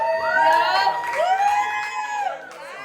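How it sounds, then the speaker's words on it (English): A live show audience cheers and whoops loudly, with crowd noise and high shouting voices sustained for about two and a half seconds before tapering slightly. "It's gonna go by cheer."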